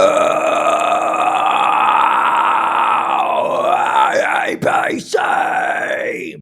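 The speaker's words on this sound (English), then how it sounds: "there's actually several different types of fry screams? For example, here's one." A person demonstrates a vocal fry scream: a loud, sustained, raspy, gravelly vocal roar holding steady for several seconds, then wavering in pitch with brief breaks near the end before resuming.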